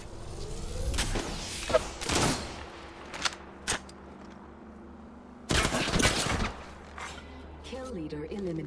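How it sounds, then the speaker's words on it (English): Gunfire in the battle royale game Apex Legends, several sharp bursts and rapid volleys at uneven intervals with a longer sustained burst late, mixed with in-game voice lines. "I'm under fire."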